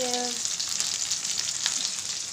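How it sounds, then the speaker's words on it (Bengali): Bata fish frying in a pan, a steady close sizzle of hot oil that runs without a break and stays loud throughout. "মাছ ভাজা বসিয়ে দিয়েছি বাটা মাছ"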